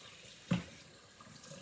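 Hot water from a kitchen tap runs into a sink while jars are washed, a soft steady stream with one brief louder splash partway through, fairly quiet and with no talking.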